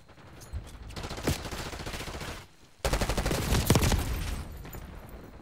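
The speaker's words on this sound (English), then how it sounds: "You just can't do anything against this fucking 100 mag gun." A Call of Duty LMG with a 100-round magazine rattles off two long, loud bursts of rapid automatic fire, close and punchy, with a brief pause between them and no talking.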